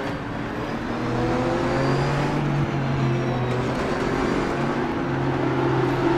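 Race car engines in the rFactor 2 racing game with twenty cars on the grid, a steady droning, whirring engine note with slowly shifting pitch that holds at a constant, fairly loud level with no talk.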